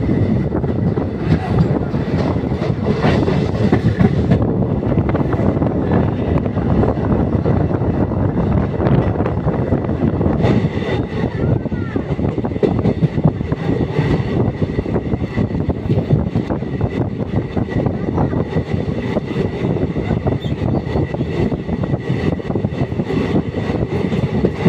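Passenger train rolling on after leaving Bandel Junction on the Naihati to Bolpur Shantiniketan line, a steady loud rumble of wheels and carriage noise heard from inside, continuous throughout.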